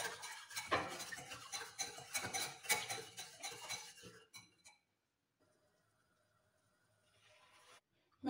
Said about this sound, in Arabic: من بعد ما فات ليا الحليب غادي نبدا نخلط، ونخلط مزيان بالطريقة